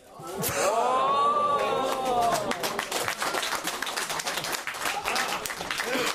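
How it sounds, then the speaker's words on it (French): Applause from a French comedy show audience builds into a steady patter of clapping, with a voice heard over it at first. "il y a un des gens qui applaudissent mais qui n'ont pas compris."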